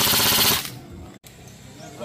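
At a shooting range, a short rapid burst of automatic gunfire rings out loud and close, then cuts off into quiet room tone with a faint click.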